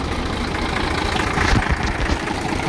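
A tractor running on three tyres with a trolley attached gives a steady, loud, close engine rumble with a slight swell midway, no talk.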